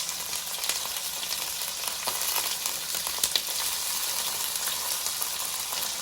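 Vegetables with ginger garlic paste frying in a pan for a veg biryani, giving a steady, close sizzle with faint stirring scrapes and no speech.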